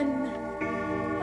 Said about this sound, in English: Let's get one more last chime.